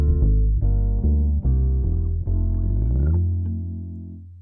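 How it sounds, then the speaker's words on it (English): A 3-6-2-5 jazz blues turnaround resolving back to the 1 chord, heard as a sequence of warm, slightly effected chords changing about every half second before a final sustained chord fades out. "Variation 2 is a 3, 6, 2, 5, and then back to the 1 at the top of the form."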